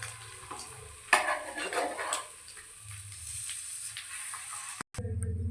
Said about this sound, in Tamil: இப்போ முட்டையும் வெண்ணையும் ரோஸ்ட் பண்ணி எடுத்தாச்சு